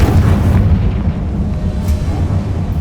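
A Confringo blast spell from the game Hogwarts Legacy lands as a loud, deep boom, followed by a rolling, rumbling roar that slowly settles.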